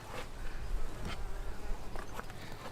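Honeybees buzzing at an opened backyard beehive during an inspection, a dense steady drone of many bees close by, with a few louder passes and rustles on top and no speech.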